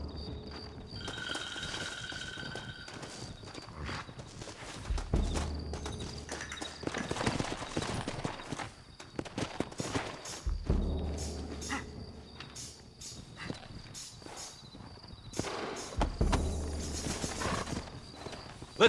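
Steady, rhythmic horse hooves clip-clop throughout, with a noisy game soundtrack and occasional whinnies in the background, from the video game Red Dead Redemption.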